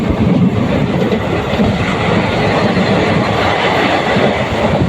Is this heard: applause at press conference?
no